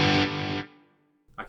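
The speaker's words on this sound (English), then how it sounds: "I've got a chorus and an echo together" A Strymon DIG delay pedal with chorus and echo combined: a thick, shimmering note rings out, then decays into fading echo repeats before another note strikes, with no talking.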